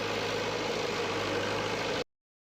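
A village tractor idles with a steady, even mid-pitched engine drone and a faint hum, close and unbroken for about two seconds before cutting off abruptly.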